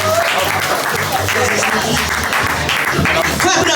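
Dense audience applause at a poetry slam fills the room loudly and continuously, with a voice speaking over the clapping throughout.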